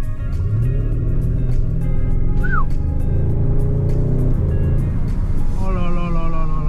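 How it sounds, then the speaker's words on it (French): A 2021 Audi RS7 with 600 horsepower downshifts, its exhaust booming in a loud, steady rumble that swells and barks near the end, heard up close with no talking over it. "Ça chante plutôt pas mal au niveau des échappements."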